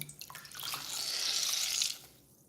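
A makeup sponge is dampened in a basin of water, giving a soft, steady splashing and trickling wash that swells for about a second and a half, then fades to quiet.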